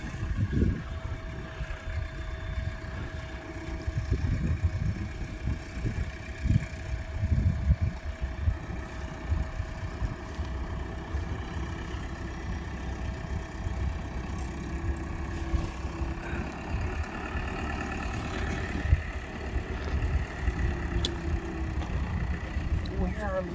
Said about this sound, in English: But here we have the machine. There's the hopper full of grapes.